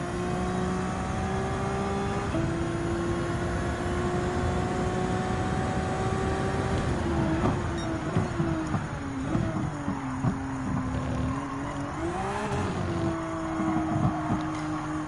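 Genesis X Berlinetta Vision GT concept car engine in Gran Turismo 7, a loud continuous drone that rises and falls through gear changes, with engine pitch shifting around upshifts and downshifts, near and unbroken.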